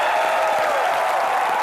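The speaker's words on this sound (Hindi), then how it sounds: "जोरदार तालियां रानी के लिए" Studio audience of a Hindi comedy talk show applauding for actress Rani Mukerji, a dense, steady wash of clapping heard briefly and evenly at moderate loudness.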